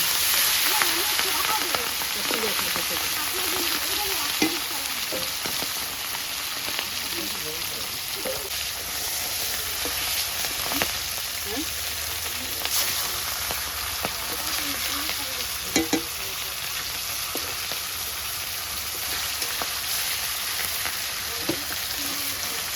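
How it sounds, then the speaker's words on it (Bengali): Hilsa fish fries in a pan of hot oil, giving a continuous close sizzle with crackling spatters and occasional stirring clatter. Voices murmur faintly in the background. "মাছ ভাজা হয়ে গেছে, তুলে নিলাম।"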